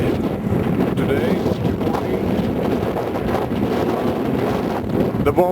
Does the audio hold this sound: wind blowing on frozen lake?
yes